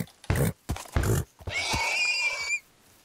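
A horse neighs in Minecraft, a loud, close, drawn-out whinny with a wavering pitch that follows two short grunting snorts.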